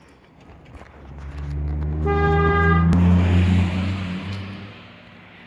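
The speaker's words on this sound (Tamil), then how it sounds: "கார் வருது. சீக்கிரம் வா அங்கேரி." A car approaches on a road and sounds one long, loud, steady horn blast. The engine swells as it nears and fades as it passes, with no talk.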